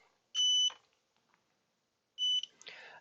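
Two short electronic continuity beeps from a multimeter probing the ESC pads on a long range drone build, each a clean steady tone about a third of a second long, spaced nearly two seconds apart, with faint handling noise after.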